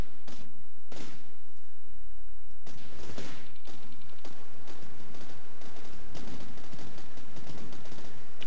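Weapon rounds firing in the vehicle-building game TerraTech, several loud sharp bursts and booms scattered over a rumbling, clanking battle din.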